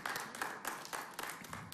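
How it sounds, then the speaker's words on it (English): Sparse, light golf claps from an audience at a talk, a few soft, uneven pats of hands in a short loose burst. "I appreciate those golf claps"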